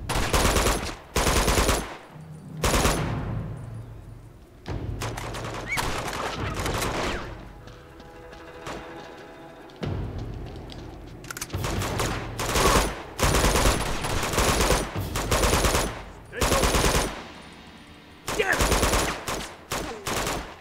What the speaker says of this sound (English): There's a machine gun there.